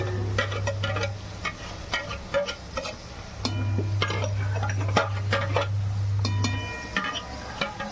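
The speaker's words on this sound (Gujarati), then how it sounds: "તમે લોકો જોઈ શકો છો એકદમ વ્યવસ્થિત રીતે ચડી રહ્યું છે. આને હવે મિક્સ કરતું રહેવાનું, નકર નીચે બેસી જશે." Pav bhaji vegetables cooking in a pan while a spoon stirs them, rapid scraping and tapping clicks over a low sizzle and a steady hum, close and clear.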